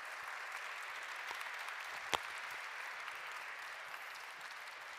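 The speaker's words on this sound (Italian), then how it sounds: "Un applauso." An Italian music festival audience applauds an emerging-band contest winner, a continuous even wash of clapping throughout with one sharp louder clap standing out midway.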